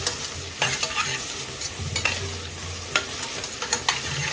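Onion and cashew nuts fry in oil in a pan for coconut milk rice: a steady close sizzle with a spoon scraping and stirring in irregular bursts.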